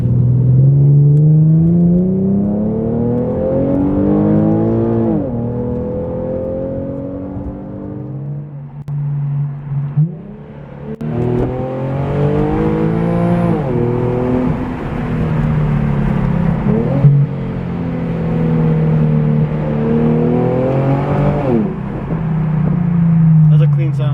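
Infiniti G37 sedan fitted with a Topspeed axleback exhaust driving, a loud, close engine note rising and falling through repeated accelerations and gear changes, with a brief dip midway.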